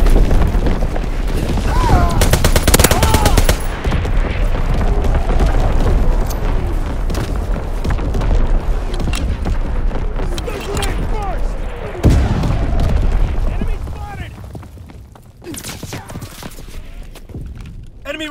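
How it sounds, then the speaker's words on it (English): Artillery blasts and rapid gunfire erupt in a Call of Duty WWII team deathmatch on the Sainte Marie du Mont map. Booming impacts and volleys are loud and dense, and in-game voice callouts run over them before the noise thins toward the end. "Taking fire! Enemy is down! Firing division artillery."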